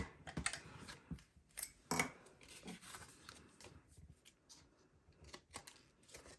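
Scissors trim the edges of paper for a Stampin' Up! card, a few quiet, sharp snips and light paper rustles scattered across a hushed, close tabletop setting.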